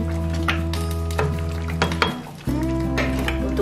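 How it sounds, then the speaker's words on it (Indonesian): A spoon stirs thick chicken porridge in a pot, giving repeated soft scraping and knocking strokes against the pot over a steady stovetop hum, with no talking. "Untuk buburnya tinggal sebentar lagi, ini terus-terus diaduk supaya dia hancur."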